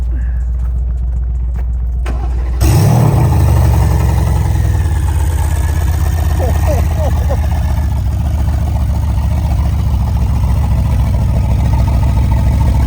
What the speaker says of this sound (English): the noise is up front. Yeah. The exhaust is right here.